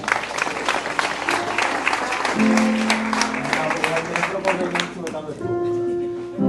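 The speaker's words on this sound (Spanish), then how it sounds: "Dale un aplauso a Dios" A church congregation applauds during a sermon, bright clapping under crowd noise, with voices talking and a sustained musical tone rising in the background as the clapping continues.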